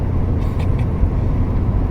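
Steady low engine and road rumble inside a car travelling on a highway near Mankato, a continuous close drone with no talking.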